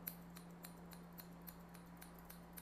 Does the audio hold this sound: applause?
no